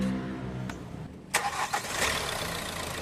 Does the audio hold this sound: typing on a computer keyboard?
no